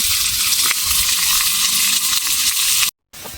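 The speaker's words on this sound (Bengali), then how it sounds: "তেল গরম হয়ে গেছে, আমি এখন কুমড়োগুলো ভেজে নেব।" Steady, loud sizzling of pumpkin slices for fritters frying in hot oil, a continuous crackling hiss with a brief silent gap near the end.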